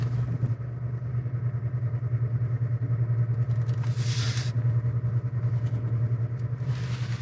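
A 2023 Chevy Colorado Trail Boss crawls off-road in off-road mode, its engine a steady low rumble throughout with two brief bursts of hissing scrape or rustle partway through and near the end.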